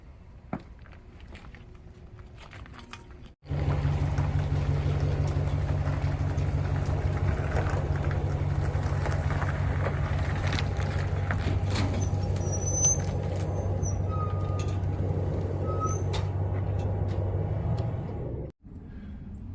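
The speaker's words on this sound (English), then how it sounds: "now I'm ready to pull the boat out of the parking area" A truck engine idles and then runs with a steady low drone while pulling a boat trailer for most of the stretch before cutting off, with faint rattles on top.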